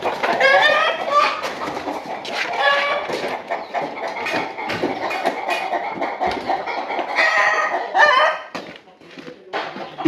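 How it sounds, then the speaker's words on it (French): Chickens and roosters on a Cameroonian farm, two cocks among ten hens, cluck and crow loudly and close in a busy, overlapping chorus that runs throughout. "nous avons 2 coques pour 10 poules"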